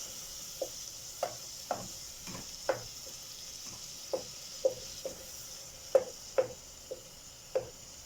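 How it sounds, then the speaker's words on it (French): Meat cooking in butter in a pan while being pressed and broken up, a soft steady sizzle under a series of sharp knocks and scrapes of a utensil against the pan, spaced irregularly and heard up close. "Donc j'écrase bien toute ma viande, je la cuis comme il faut. Voilà, avec mon beurre."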